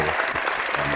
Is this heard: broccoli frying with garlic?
no